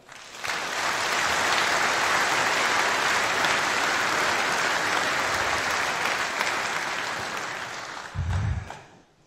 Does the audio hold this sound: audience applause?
yes